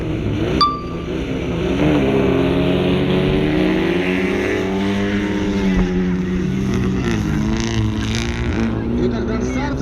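Autocross race cars roar off the start at a 2019 competition in Zhatai, engines revving loudly and continuously with rising and falling pitch, while an announcer talks over the noise.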